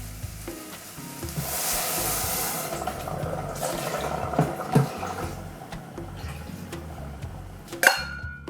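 Water pours into a pot of rice with turmeric for a home-cooked chicken curry, a rushing splash building and settling into a sizzling hiss, followed by a few clinks of a pot and utensil near the end.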